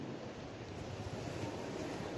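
Sea waves wash steadily onto the shore at Playa de Oboza beach in Toril, a continuous broad roar with some wind rumble and no voices.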